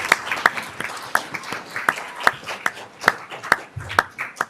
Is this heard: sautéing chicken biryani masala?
no